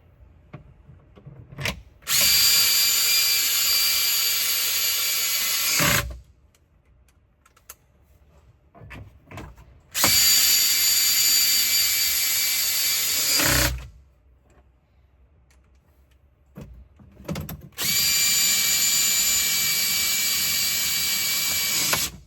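Power tool driving four bolts back in during a Polaris Ride Command install, heard as three loud, steady high-pitched whirring runs of a few seconds each, separated by quieter pauses with faint handling clicks.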